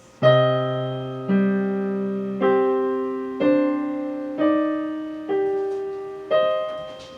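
Piano plays a short, slow passage, about seven struck notes and chords, each ringing out and decaying before the next.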